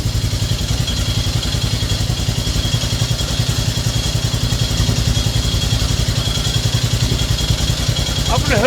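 A Yamaha Grizzly ATV engine running right after a cold start with no starter fluid, a steady loud, close, rhythmic idle with mechanical clatter that holds throughout, and a voice briefly audible near the end.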